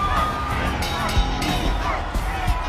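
Crowd at a WFW wrestling roadshow arena, a steady roar of cheering and excited babble from a large audience, with shouts rising now and then.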